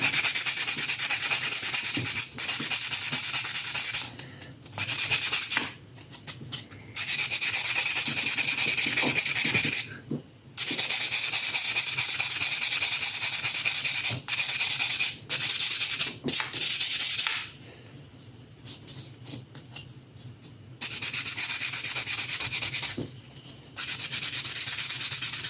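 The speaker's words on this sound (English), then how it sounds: "sanding stick here." A sanding stick rubs back and forth on a small sculpted 1/6-scale Predator figure, close, raspy, hissing strokes in long bursts separated by short pauses, with no talking.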